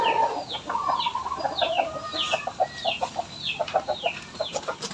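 Pet fighting chickens of shamo and aseel type cluck in a steady series of short calls, with a few rising squawks overlaid, fairly close and alone with no talk.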